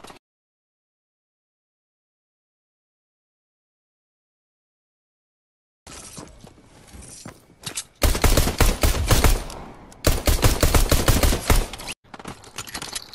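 Rapid automatic gunfire in Fortnite starts after several seconds of silence. Scattered shots grow into loud, dense bursts with sharp repeated cracks, then taper off, and there is no talking.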